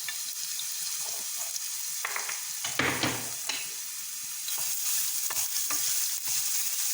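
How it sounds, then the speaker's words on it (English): Garlic frying in hot oil for masala green gram sprouts, a constant close sizzle that swells louder toward the end, broken by scraping stirs and a brief burst of spattering. "Now I add the garlic to the oil so that the garlic flavor infuses completely into the oil."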